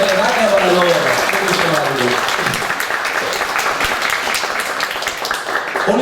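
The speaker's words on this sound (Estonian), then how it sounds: "aplaus sellele vägevale loole." An audience applauds after a choir song, dense clapping that builds and carries on, with a voice speaking over the start of it.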